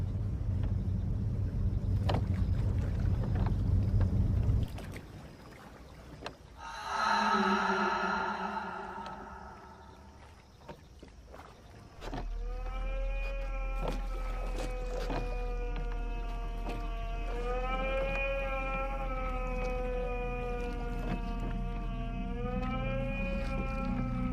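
A boat on a river carrying a passenger toward an old ghat, its low steady engine drone running continuously through the second half after an earlier burst of broadband noise and harmonic tones.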